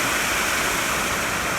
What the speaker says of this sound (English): And here's more waterfalls over here.